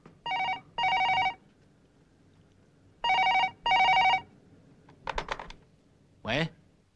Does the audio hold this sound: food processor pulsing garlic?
no